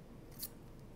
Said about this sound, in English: I'm going to line up the scissor against the side of the cuff, and I'm just going to follow the cuff and snip